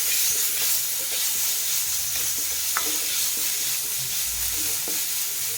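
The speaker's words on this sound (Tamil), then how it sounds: "இந்த ஸ்டேஜில் நம்ம இஞ்சி பூண்டு பேஸ்ட்டு ஒரு 1 டீஸ்பூன் ஆட் பண்ணிக்கோங்க" Ginger garlic paste frying with onions in a pan for chicken kothu kari, a steady close sizzle and hiss with occasional stirring scrapes throughout.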